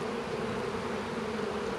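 Honey bees covering a hive frame being set up for mating nucs give off a steady, loud, close buzzing hum that holds evenly without pauses.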